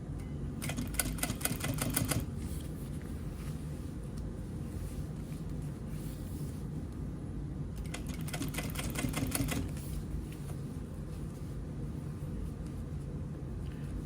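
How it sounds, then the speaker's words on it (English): A sewing machine double-stitches black thread around fabric for reupholstering Audio-Technica ATH-M50x headphones, running in two bursts of rapid clatter over a steady low hum. "now I'm doing a double stitch around these in black"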